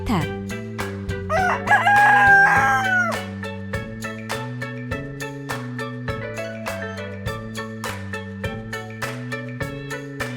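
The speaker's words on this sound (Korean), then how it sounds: "rooster, 수탉," A rooster crows loudly and close, one drawn-out cock-a-doodle-doo rising over a bouncy repeating background music track.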